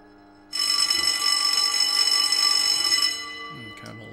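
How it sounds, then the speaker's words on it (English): A loud, sustained electric bell rings steadily for about two and a half seconds in the horror video game Self-Delusion, starting abruptly and then cutting off, followed by brief faint sounds. "Kind of a loud bell."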